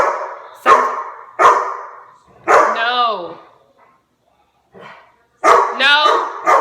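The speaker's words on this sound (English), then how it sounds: "That's like when they play, she barks." Dogs at play bark in sharp repeated bursts with whimpering yips between them, close and loud, and a person shouts over them.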